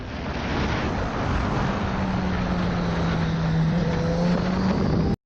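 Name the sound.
motorcycle engine as rider applies throttle mid-turn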